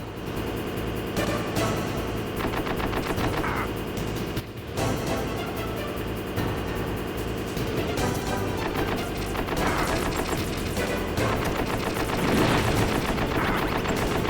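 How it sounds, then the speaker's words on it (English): Heavy tank cannon blasts and rapid gunfire from the PS1 video game Metal Gear Solid, a dense, loud, continuous barrage of shots and booms with game music underneath, no talk. "They'll start aiming that main cannon at you, and that main cannon does some real damage."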